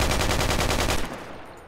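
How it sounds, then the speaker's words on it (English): A machine gun in the military shooter Project Reality fires one sustained, loud, close burst of rapid evenly spaced shots for about a second, then cuts off into a decaying echo. "It is a fairly accurate long range, fully automatic firing weapon."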